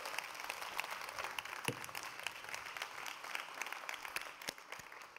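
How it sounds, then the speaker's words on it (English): An audience applauds at a live-streamed event honouring a government minister, a steady wash of many hands clapping throughout. "if you'll join me in giving Minister Pallas another huge round of applause"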